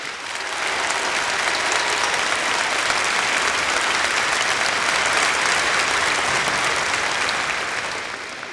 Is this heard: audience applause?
yes